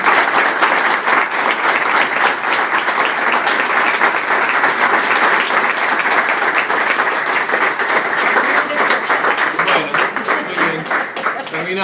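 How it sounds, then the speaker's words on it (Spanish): Sustained audience applause fills a lecture hall, dense and steady for about twelve seconds and staying loud from start to finish, with no voices above it. "de regalarles un aplauso aquí"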